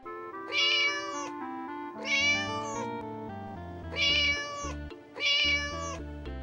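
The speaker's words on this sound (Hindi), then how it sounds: "रास्ते में उसे एक बिल्ली दिखाई देती है।" A cat meows four times in long, drawn-out, tonal cries with short pauses between, close and clear with no talking.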